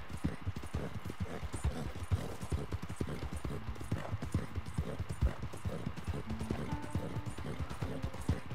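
Horse hooves gallop at a steady run in Red Dead Redemption 2, a continuous rhythmic clip-clop of many close, fairly loud beats with a brief whinny and game ambience behind them.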